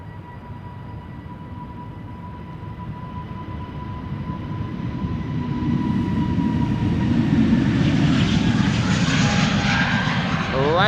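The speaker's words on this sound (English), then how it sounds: "A320neo over here" EasyJet Airbus A320neo taking off from Amsterdam Schiphol for Southend, a close jet roar building steadily louder into a full-power rush, with a faint steady whine beneath and some talk in the background.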